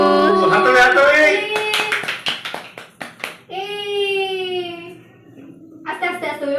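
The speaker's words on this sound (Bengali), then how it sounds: "হাততালি হাততালি।" Hands clap in a quick burst of several sharp claps right after a birthday song at a child's birthday, followed by a child's wailing cry and voices.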